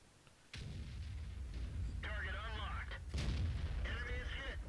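T29 tank cannon firing in a tank video game, two heavy booming shots about three seconds apart with rumbling low tails, joined by high whirring mechanical tones after each blast.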